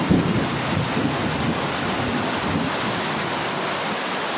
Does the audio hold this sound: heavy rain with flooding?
yes